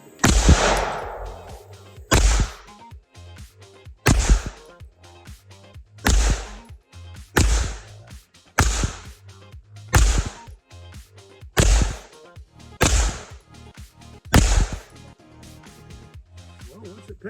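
A Hi-Point carbine fires nine loud, sharp shots in an even rhythm about two seconds apart, each crack followed by a short echoing tail, heard outdoors at close range.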